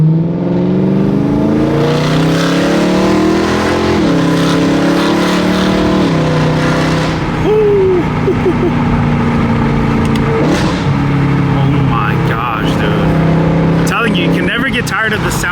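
BMW M3 engine in M mode revving through rising and falling pitch sweeps, loud and close, with a voice talking over parts of it.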